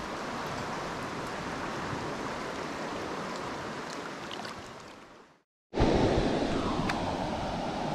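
A clear forest river flows with steady broadband rushing and babbling water, heard close and fairly loud, cut by a brief dropout before the flow resumes slightly louder; no one talks.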